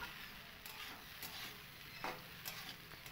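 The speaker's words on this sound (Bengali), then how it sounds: "খুব ভালো করে বাদাম আর কারি পাতাগুলোকে কিন্তু মিশিয়ে নেব" Peanuts and curry leaves stirred into poha in a hot pan, a soft continuous sizzle with scraping stir strokes at intervals, close and fairly quiet, no voices.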